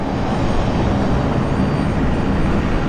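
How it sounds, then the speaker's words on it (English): Turbine of a Fokker airliner spinning up as it pushes back at Brisbane International Airport, a steady broad roar heard from a distance, continuous and fairly loud with no talking. "it does sound like a turbine, doesn't it? Spinning up."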